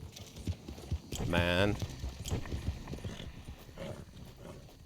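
Horse hooves clip-clop rapidly in a video game while someone talks over the galloping, which stays fairly close and steady beneath his voice.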